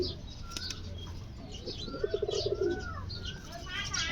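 Domestic pigeons in a breeding loft make soft cooing and chirping calls, including a short rapid burst in the middle, against steady background noise.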